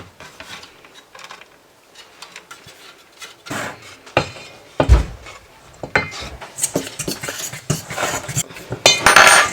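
Vegetables and home-canned ingredients tumble into a cooking pot for chicken pot pie, a run of close clattering and scraping knocks against the pot with bursts of rubbing and clinking, getting busier and louder toward the end.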